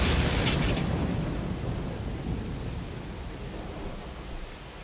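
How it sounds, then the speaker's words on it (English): Lightning strike in the video game AI: The Somnium Files: a loud crackling burst right at the start that slowly fades into a dense, rain-like rumble and hiss. "It's gonna get hit by lightning."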